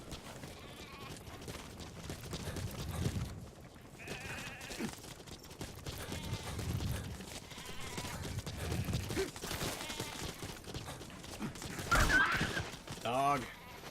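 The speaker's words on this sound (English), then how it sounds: "if I can tackle the sheep." Sheep bleating in a video game set during a hunt, several wavering calls over busy game sounds with bursts of gunfire-like noise, moderately loud throughout.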